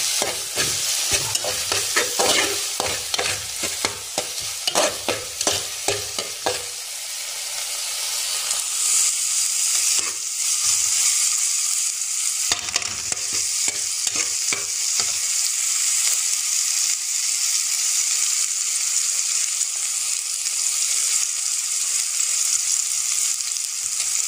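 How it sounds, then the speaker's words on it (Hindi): Onions frying in a pan for chicken, with loud sizzling and repeated stirring scrapes in the first seconds, settling into a steady close hiss of frying. "अभी प्याज फ्राई कर रहे हैं"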